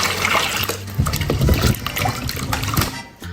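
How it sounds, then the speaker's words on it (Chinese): Water is poured over peeled potatoes to rinse them, a close, loud splashing gush with sloshing and dribbling for a few seconds. "倒水再洗一下。"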